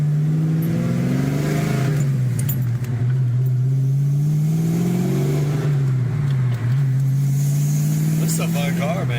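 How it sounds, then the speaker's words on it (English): A car's exhaust rumbles close by as the engine revs up and down in repeated swells, loud and continuous at an enthusiast gathering. "There's no better sound than this exhaust here."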